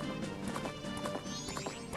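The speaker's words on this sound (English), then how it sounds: "Did you ride bareback like Link does?" A horse gallops in The Legend of Zelda: Majora's Mask, its rapid rhythmic hoofbeats clip-clopping over a steady musical background for the full two seconds.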